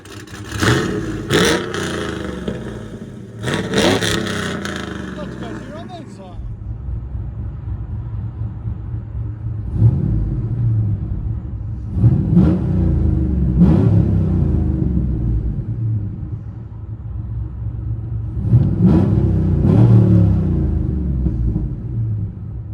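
A cammed Chevy Silverado V8 with long tube headers, a stage 4 cam, 2-step and Corsa Extreme exhaust revs several times, loud throaty bursts with a choppy lopey idle rumbling between them.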